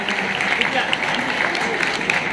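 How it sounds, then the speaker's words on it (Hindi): Audience applause at a school award ceremony, a steady wash of clapping from a crowd with a voice speaking over it, continuous for the whole stretch. "जोरदार ताली देकर के आपका सम्मान हो।"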